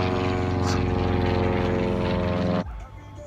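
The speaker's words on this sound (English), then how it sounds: "Thank you, Airplane, for ruining the shot." An airplane roars loudly overhead while someone fishes on the water, a dense steady engine drone that holds for several seconds, then drops away sharply.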